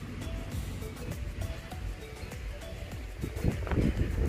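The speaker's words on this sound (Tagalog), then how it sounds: "Fresh na fresh ang hangin." Steady outdoor wind rushes over open ground on an overcast, cool day, a continuous low roar with gusts swelling louder near the end.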